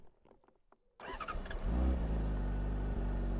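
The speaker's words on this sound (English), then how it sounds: "Right, let's fire the bike up." Honda CBR600RR inline-four motorcycle engine starting up after a few soft clicks, catching with a burst and settling into a loud, steady idle close by.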